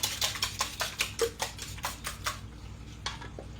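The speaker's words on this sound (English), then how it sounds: "Mix it, mix it, mix it." Spoon or whisk scraping and clinking rhythmically against a bowl while mixing chocolate yogurt cake batter, a steady run of close, bright strokes that slows and thins toward the end.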